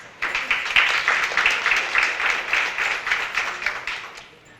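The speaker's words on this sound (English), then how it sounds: "Another round of applause for her, please." At a parent graduation ceremony, the audience breaks into sudden applause, a full, close wash of many hands clapping at a steady level before tapering off slightly at the end.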